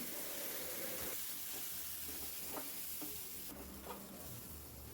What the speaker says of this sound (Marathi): मसाले टाकल्यानंतर पुन्हा एकदा मी परतवून घेणार आहे